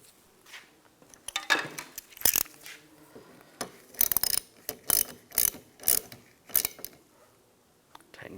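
A ratchet tightens the rear wiper arm nut on a 2010–2016 Cadillac SRX. Up close come bursts of quick metallic clicking, separated by short pauses and light handling noises.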